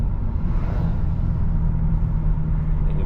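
From inside a BMW 335i with the N54 turbo engine, a deep, steady engine rumble holds under hard acceleration for a few seconds, loud and continuous with no talking.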